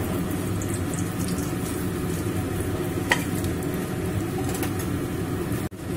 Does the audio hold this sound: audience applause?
no